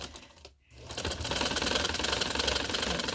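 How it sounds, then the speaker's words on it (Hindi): Sewing machine stitching trouser fabric, a brief pause and then a fast, steady mechanical chatter running loud and close with no voices. "आपने यहाँ पकड़ना और इसकी सिलाई लगा देनी है।"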